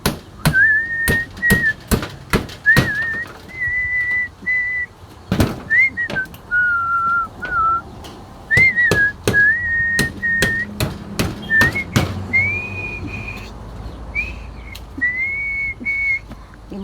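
Someone whistles a wandering tune in light drizzle while building a fence in the countryside, as sharp hammer blows strike repeatedly nearby, loud and irregular.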